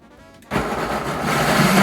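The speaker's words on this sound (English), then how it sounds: "And we're just going to blend this up and puree it." A blender starts up and purees black beans with sauteed onions and garlic: after a half-second of quiet, a sudden loud motor whir kicks in and grows steadily denser and louder to the end.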